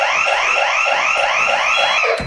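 A switched-on house alarm blares loudly and close, repeating a quick rising electronic whoop about eight times in a steady, unbroken rhythm, with no voices.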